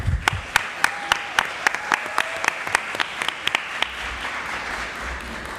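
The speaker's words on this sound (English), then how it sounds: "I want everyone to please give a round of applause for these young stars" A council-meeting audience gives a round of applause, with scattered distinct claps over a steady wash of clapping that continues and thins out toward the end.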